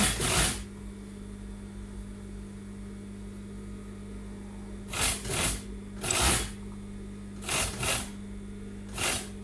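A sewing machine stitches a sleeve onto a pleated dress in short bursts, about five quick runs of close, steady whirring separated by pauses, with no talking.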